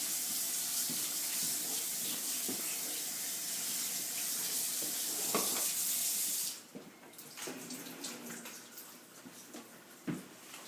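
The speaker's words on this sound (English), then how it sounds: "you want to run cold water over the noodles so they don't stick together" Cold water runs from a kitchen tap over cooked lasagna noodles in a sink, a steady broadband rush for about six seconds, then the flow cuts back to quieter, irregular splashes and drips.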